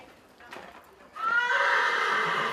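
A horse being readied for a riding competition in Prince George's County gives a loud, close, drawn-out whinny lasting over a second, after a quieter stretch of faint background noise.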